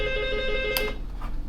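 A ship's telephone rings aboard a commercial vessel, a steady electronic tone over constant engine-room hum, with a brief click and faint noise after the ring stops.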